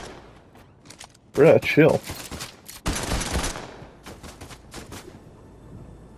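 Fortnite gunfire cracks out in a rapid burst and then a sustained volley, loud against quieter game ambience, with a player's voice talking in between.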